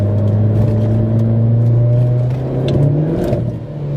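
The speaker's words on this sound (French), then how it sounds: "Ça patine instantanément." Renault Clio 4 RS Stage 1 engine revving hard with a steady loud drone, pitch climbing slightly near the end as the wheels spin under heavy acceleration; no talking.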